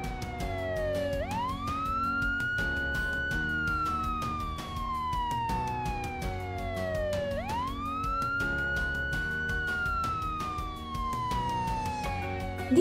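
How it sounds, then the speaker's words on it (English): An ambulance wail siren sweeps slowly up in pitch, holds, then glides back down, repeating twice in a steady loud cycle with no voices. "In this type of siren, the sound gradually increases its frequency,"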